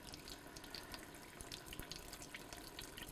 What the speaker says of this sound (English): we're just going to slowly pour this liquid through our sieve